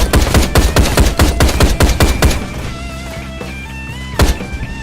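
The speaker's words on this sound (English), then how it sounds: "Where are you shooting from? It's not nice to shoot me." Rapid automatic gunfire in the action game Ride to Hell: Retribution, with loud, dense bursts for about two seconds, then a low ambient hum and one more sharp shot near the end.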